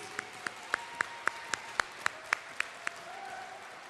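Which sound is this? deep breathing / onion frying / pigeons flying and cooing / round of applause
round of applause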